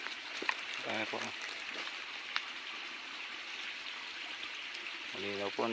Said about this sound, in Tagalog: Malinaw po ang daloy ng tubig dito.